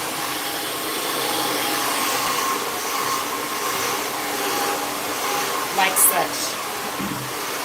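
Hair dryer blowing steadily during a salon blowout, a loud continuous airy roar throughout, with a brief spoken remark near the end.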